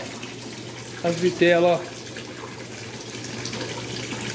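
Water runs steadily through the filter system of a tilapia tank kept in a water tank, a constant close wash of flow with a short spoken phrase over it.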